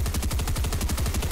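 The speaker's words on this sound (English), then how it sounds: "today I'm gonna put some sticky grenades on him" A rapid, loud, continuous run of booms and pops from sticky grenades going off in Fortnite. The blasts repeat evenly across the whole short stretch with no voices.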